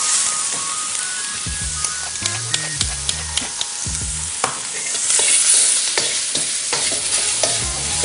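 Chicken stir-frying in sesame oil with mange tout, carrots and mushrooms, a bright close sizzle punctuated by quick clattering tosses and stirs of a utensil against the pan, with no talk.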